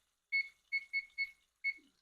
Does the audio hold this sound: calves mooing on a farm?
no